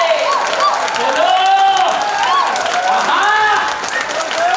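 Hands clap across an audience at a Hindi motivational talk, a dense, continuous wash of applause under voices and shouting throughout.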